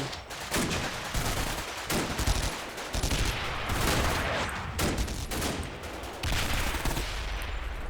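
Tanks and infantry guns in Combat Mission: Battle for Normandy fire in a dense, continuous barrage, with rapid overlapping gunshots, machine-gun bursts and heavy thumps, loud and sustained with no voices.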